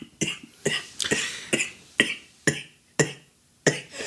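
A person coughs in a run of about nine sharp, separate hacks, each followed by a short raspy tail, close to the microphone and without speech.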